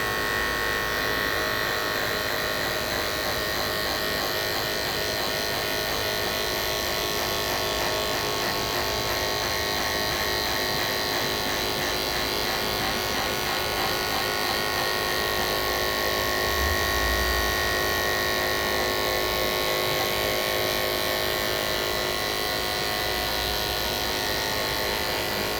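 Electric hair clippers with a detachable OA blade cut a one-inch guideline around a head for a military skin fade, a steady close buzzing hum that runs unbroken throughout with no talk.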